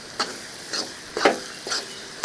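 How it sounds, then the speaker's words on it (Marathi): Ground dal with green chilli and ginger is stirred into a sizzling tempering for spicy ukadiche modak. About five rhythmic scraping strokes sound close over a soft frying hiss, with no talking. "छान ढवळून घेऊया"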